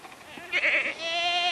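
A sheep or goat bleating during a feed taste test, one loud wavering bleat close by, followed by a second steadier bleat that carries on to the end.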